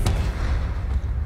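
A single heavy gunshot booms at the start, followed by a low rumbling, dense game-like background that continues to the end.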